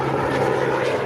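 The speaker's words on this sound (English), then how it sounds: "Maybe that helicopter scared them all away." Helicopter sound effect for a radio drama, a steady close engine and rotor drone filling the whole stretch at even loudness, with no voices over it.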